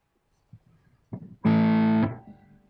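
A Gibson ES semi-hollow electric guitar, a Memphis 335 or 339 in Antique Sunset Burst, is played clean without distortion: a couple of quiet plucks, then one loud, bright strummed chord that rings for about half a second before being cut short.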